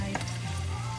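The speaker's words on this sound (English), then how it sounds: "I'm going to add in my garlic. Give it a quick saute" Garlic hitting a heated pan for a garlic bok choy stir-fry, a short burst of close frying sizzle with a quick stir or clatter near the start, no voices.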